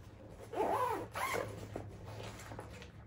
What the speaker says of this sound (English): Great zipper action.